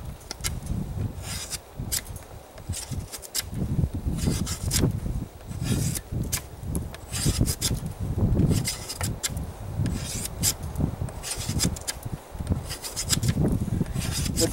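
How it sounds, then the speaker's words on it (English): A bushcraft knife shaves curls off a piece of wood in steady, repeated scraping strokes, close and fairly quiet, with no talking. "that's the knife I'm using. Making great curls."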